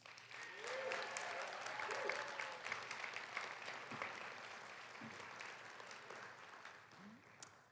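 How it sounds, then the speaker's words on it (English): Faint, steady applause from an audience at a Roseman College of Nursing pinning ceremony in South Jordan, a soft continuous patter with a few scattered voices underneath, sounding distant and low in level. "I think that that deserves in and of itself a huge round of applause."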